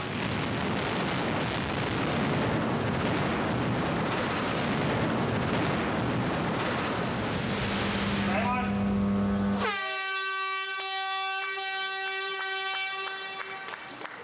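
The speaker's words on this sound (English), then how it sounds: "I love to blow things up." Tunnel construction blasting: a long, loud, rough roar of explosive detonation rumbles through the tunnel, then cuts out into a sustained air horn blast near the end.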